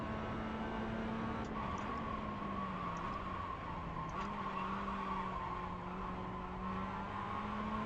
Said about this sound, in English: Big old slide into 1